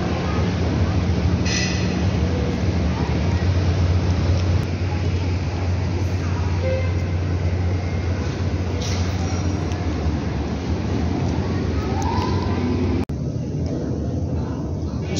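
Subway train in a metro station, a steady loud rumble and rolling rail noise filling the whole stretch with faint squeals, no talk over it.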